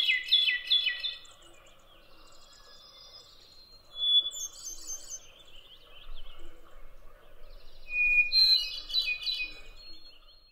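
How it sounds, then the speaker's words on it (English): Hermit thrush singing its clear, flute-like song of separate phrases at different pitches, each opening with a long note; moderately close, with pauses between phrases and faint other birds and insects behind. "The hermit thrush's clear, flute-like song consists of three or four phrases at different pitches"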